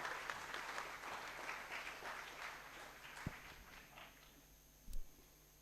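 A hall audience at the IIT Kanpur National Space Day celebration gives a warm round of applause to welcome a speaker. The clapping is soft and distant, thins out midway, and a couple of isolated knocks follow.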